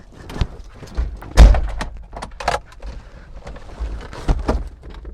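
A Mazda Miata's door opens with one solid thunk of the latch, followed by light rustling and shuffling nearby; nobody speaks.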